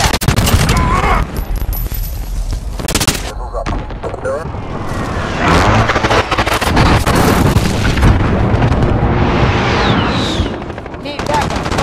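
Heavy battle din in Call of Duty Modern Warfare online multiplayer, with loud continuous gunfire and booming explosions from an enemy precision airstrike running throughout, under radio-style voice callouts.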